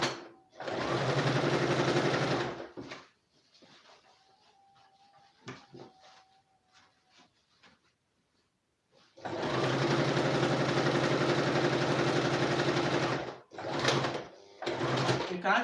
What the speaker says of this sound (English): You can actually see how fast it is to sew.